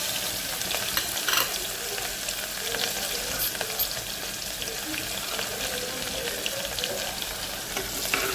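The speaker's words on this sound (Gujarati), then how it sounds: "જ્યાં સુધી ડુંગળી સંતળાય, થોડી બ્રાઉન થાય" Chopped onion and green chilies sizzle steadily in hot oil in a pan, with occasional stirring scrapes, loud and continuous throughout without any talk.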